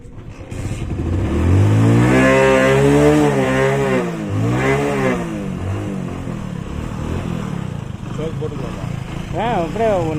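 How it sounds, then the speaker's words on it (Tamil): A motorbike left unused for about a month is started and revved, its engine rising and falling in a few loud swells before settling into a steadier running note. "அண்ணனுக்கு வண்டி ஆன் பண்ண முடியல, ஸோ நம்ம ஆன் பண்ணி கொடுத்துட்டோம்"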